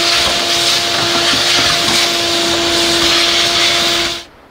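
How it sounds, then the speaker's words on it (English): A vacuum cleaner runs loud and close with a steady hiss and whine while cleaning around a Toyota Prius hybrid battery pack, then the motor switches off and the sound drops away near the end. "I will continue using my vacuum and cleaning around here."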